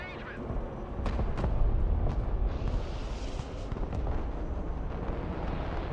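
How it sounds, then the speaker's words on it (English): MLRS rocket artillery firing in the Broken Arrow video game, a dense roaring rumble with sharp launch bursts early on, then a steady loud wash of noise that carries on to the end. "MLRS ready to fire."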